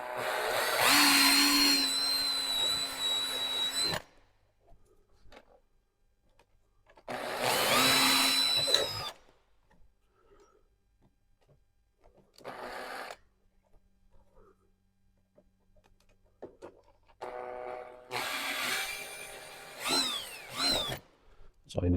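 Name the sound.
power drill with 4mm bit drilling holes in a car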